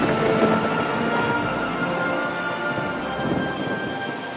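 A thunderstorm at sea rumbles steadily as a dense, continuous wash of roaring rain and wind with low thunder underneath, loud and unbroken throughout with no speech.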